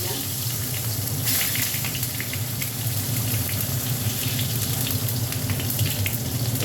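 Tomatoes dropped into hot oil tempered with cumin seeds and bay leaf for a bottle gourd curry, giving a steady, loud, close sizzle that hisses continuously without pause.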